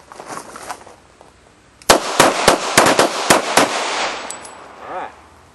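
Pistol shots crack out loud and close in a practical shooting drill, a cluster of rapid shots following a quiet stretch with faint background voices, then a fading echo.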